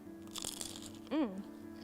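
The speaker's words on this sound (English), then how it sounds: "That crunch, so good." Crunchy food is bitten and chewed at a dinner tasting, a couple of crisp crunches close to the mic, followed by a short murmured voice.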